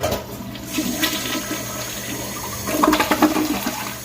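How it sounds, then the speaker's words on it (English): Toilet flushing after a major blockage was cleared and the toilet pulled, a close, loud whoosh of rushing water that swells and gurgles as the bowl drains and refills. "We're rushing and we're flushing."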